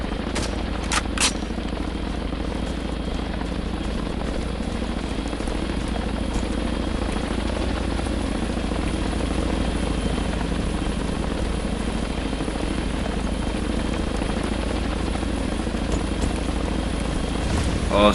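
A helicopter arrives in the military shooter game Harekat 2, its rotor drone steady and loud for the whole stretch, with a few sharp gunshot cracks early on.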